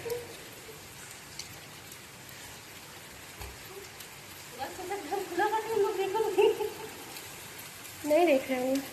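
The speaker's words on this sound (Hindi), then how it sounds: "जैसे मेरा थोड़ा सा काम खत्म हुआ वैसे बारिश होने लगी" Steady rain falls in a soft, constant hiss throughout, while a voice speaks intermittently over it in the second half.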